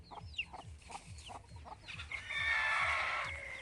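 A hen clucks in a steady rhythm with thin chick peeps over it, close by, and then a brighter, sustained chirping burst rises near the end.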